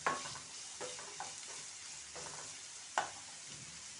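Chopped onions fry in a pan while being browned for a stuffed pointed gourd (bharwa parval) masala, a steady close sizzle broken by several sharp stirring scrapes and clacks of a spoon against the pan.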